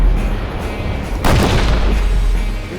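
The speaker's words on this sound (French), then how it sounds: "je suis en train de te préparer une méga scène d'explosion" A big film-set explosion effect erupts in a forest, a sudden broadband boom about a second in that rolls out over a steady low rumble, loud and with no voices.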